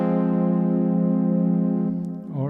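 Arturia CS-80 synthesizer keys struck very softly, a sustained harmonic-rich chord holding steadily for about two seconds, then fading as a brief sliding, wavering tone emerges near the end, alone with no talk.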